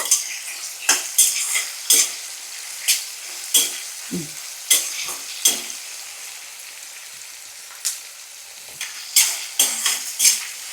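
Onions frying slowly in a pan, a soft continuous sizzle broken by regular scraping stirs of a utensil against the pan, about one every second, close and unhurried.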